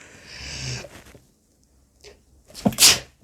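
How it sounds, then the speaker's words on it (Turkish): A single sharp sneeze bursts out near the end, preceded by a quick intake of breath after a stretch of faint noise and quiet. "Ay arkadaşlar hapşırdım."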